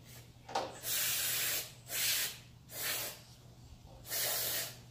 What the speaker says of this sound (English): I spray the whole thing down.